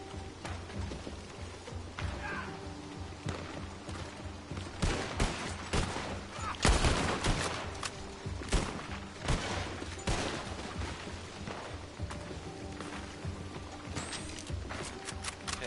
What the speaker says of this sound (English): I love the bolt-action rifle.